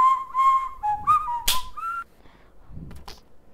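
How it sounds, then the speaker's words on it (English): The principal in the game Baldi's Basics whistles a short, bright tune of several notes, clear and close, followed by a brief pause and a couple of quieter sounds. "This principal keeps whistling."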